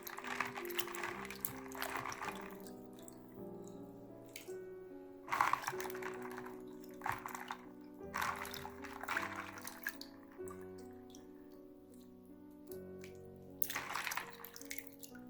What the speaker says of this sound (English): now we are going to wash it 3 to 4 times